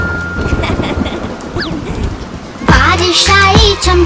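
A rain and thunder sound effect in a children's cartoon rhyme breaks in partway through as a loud rumbling wash of rain, after a brief stretch of lighter, playful sounds.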